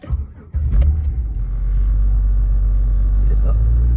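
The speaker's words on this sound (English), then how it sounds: "I'm about to start the car." A car engine catches after a short crank and settles into a loud, steady idle rumble up close, with a brief jingle of keys and a voice talking at the start.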